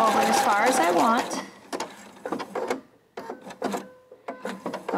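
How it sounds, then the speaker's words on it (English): A Brilliance 75Q sewing machine sews a triple straight stitch sideways in short, uneven bursts of mechanical clatter, close by, with a voice talking over the first part. "See how it's sewing sideways like that?"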